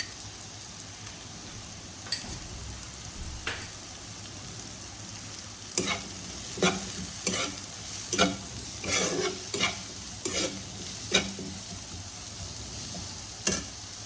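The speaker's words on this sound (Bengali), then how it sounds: "অল্প জল দিয়ে কষাবো। মশলা আমার কষানো হয়ে গেছে।" Ground spices such as coriander and chili powder cooking down with a splash of water in a pan for Mughlai paratha filling, a steady low sizzle broken by a series of sharp spoon scrapes and stirring knocks, close and with no talk.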